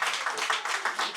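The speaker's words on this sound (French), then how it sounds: "Elles méritent des applaudissements." Brief, dense applause from an audience at a literary ceremony in Paris, with a short even patter of many hands clapping.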